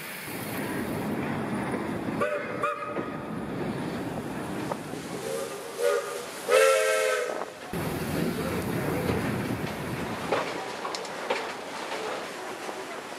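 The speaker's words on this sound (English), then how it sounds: "we took the old steam train to a sugar factory museum" An old steam train runs in Cuba on the way to a sugar factory museum, giving a steady rumble with clanking and brief metallic squeals, and some wind noise over the recording.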